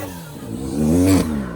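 A BMW engine revs up and climbs in pitch during winter drifting on a snowy road, rising to a strong peak and then easing off slightly, close and loud over about a second and a half.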